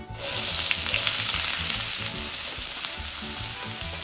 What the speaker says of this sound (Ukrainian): На вершковому маслі обсмажуємо часник. Зараз наш часник віддасть смаки і ми сюди кидаємо цибулю.